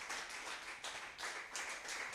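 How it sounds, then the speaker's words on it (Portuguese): Church congregation clapping, faint and distant, a soft steady patter of many hands with slight swells over about two seconds. "Uma salva de palmas a Jesus."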